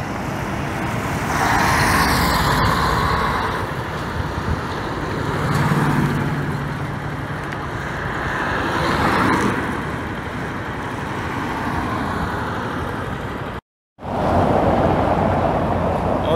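An Expresso União bus pulls out of the bus station amid traffic noise, its engine rising and falling in broad swells at moderate distance, briefly cut out near the end before resuming.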